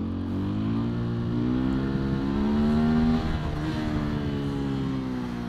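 A motorcycle engine revs during a wheelie, a loud, close, sustained drone that rises in pitch, holds, then eases back off the throttle.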